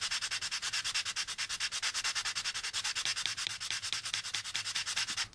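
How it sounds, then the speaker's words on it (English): Fine sandpaper cross-sanding a plastic part of an AMT U.S.S. Enterprise model kit, a close, quiet, rapid back-and-forth rasping rhythm of steady strokes, alone without talk. "So then we just cross sand with the fine."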